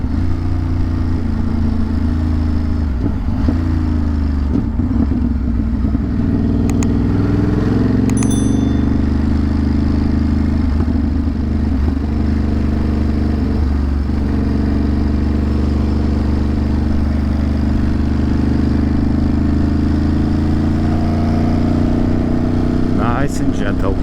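A Ducati motorcycle rides gently along a road, its low engine rumble steady and close throughout, with a rider talking over it and a couple of faint bell-like dings.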